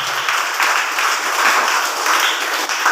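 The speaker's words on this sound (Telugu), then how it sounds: "కొట్టాలి చప్పట్లు గట్టిగా వస్తాను" An audience claps loudly and steadily in a dense, continuous burst of applause lasting a few seconds, with no pauses.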